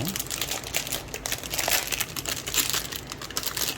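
Packaging for a Lamello Zeta P2 biscuit joiner crinkles and rustles as it is unwrapped, with close, uneven bursts of plastic and paper handling throughout, and a voice talks faintly in the background.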